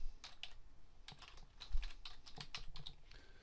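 Fingers type on a computer keyboard to fill in a web form, with irregular bursts of close, crisp key clicks and a heavier thump partway through, all quiet and without talk.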